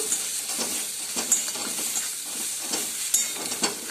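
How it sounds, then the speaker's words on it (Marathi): Red chili powder and Suhana masala stirred in a pan for a mutton rassa, with rhythmic scraping strokes of a spoon against the pan over a soft, continuous sizzle. "थोडीसं लाल तिख काळं तिखट आणि सुहाना मसाला हे सगळं आपण मिक्स करून घेणार आहोत"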